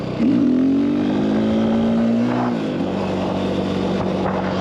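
A KTM EXC 530 dual sport motorcycle cruises in third gear at about 20 mph, its engine rising in pitch then holding a steady, loud, close drone with no talking.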